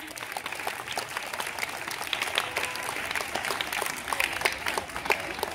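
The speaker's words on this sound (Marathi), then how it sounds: "जोरात टाळ्या वाजवा त्यांच्यासाठी।" An audience at a school Student Day event claps loudly for an army guest, with continuous dense applause and sharp individual claps carrying evenly across the whole stretch.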